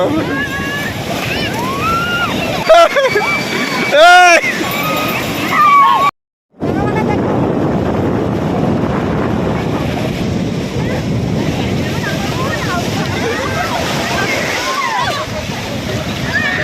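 Sea waves surge and wash continuously at the beach in Puri, Odisha, with heavy wind buffeting the microphone, brief voices and shouts rising over the surf.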